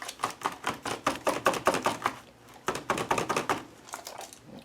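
A book is tapped against a tray to knock off excess embossing powder: a rapid, close run of hollow taps and thuds with a brief pause midway, then more tapping.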